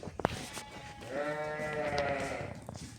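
A purebred ewe about to lamb gives a single drawn-out bleat lasting a little over a second, close and clear, with a few soft knocks before it in a quiet pen.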